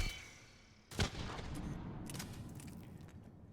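Charged weapon shots exploding in the video game Mass Effect 3: one sharp, loud blast followed by a sustained rumbling roar, with a few fainter crackling bursts trailing off later.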